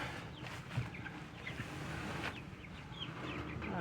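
Backyard hens being moved toward their coop in a high-elevation garden cluck and chirp softly, with scattered short calls over a low, steady background.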